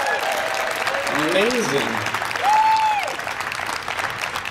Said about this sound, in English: How about, first of all, starting with a huge round of applause for Judy and for Rick and for the Sacramento Coalition